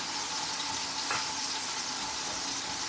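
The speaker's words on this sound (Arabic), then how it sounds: "ودلوقتي هحمر الشعريه زي ما انتم شايفين كده" Vermicelli frying in oil in a pan gives a loud, steady, close sizzle that keeps on without pause, with a faint stirring scrape partway through and no voices.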